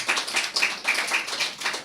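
A church congregation claps hands together in a quick, steady rhythm, sharp and fairly close, with no speech over it.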